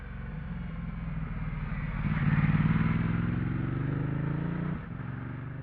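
A Ducati Multistrada 1200 motorcycle ridden through a set of corners on Japanese mountain roads, giving a steady, rumbling engine drone close up that rises slightly in pitch and then eases off near the end, with no talk.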